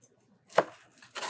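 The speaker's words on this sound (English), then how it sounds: "I transferred mine to a cutting board and we're just gonna cut it up" A knife chops through a baked Italian almond cookie on a cutting board in one sharp, close cut, followed by a faint scrape and a second softer cut at the end, with no voices.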